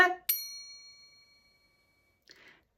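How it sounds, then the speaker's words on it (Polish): A short voice fragment is followed by a bright chime-like tone that rings out and fades slowly, then a faint brief sound near the end. "Powtórz, gdy usłyszysz sygnał dźwiękowy"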